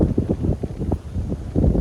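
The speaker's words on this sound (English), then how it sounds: "Gust of wind." A gust of wind buffets the microphone outdoors, making low, uneven, bursting rumbles that swell and fade in quick pulses over about two seconds, with no voices.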